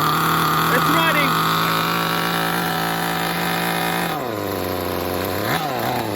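The engine of a Tamiya Terra Crusher RC truck, a 21-year-old model, runs with a high buzzing whine that holds steady, then drops in pitch and revs briefly back up near the end.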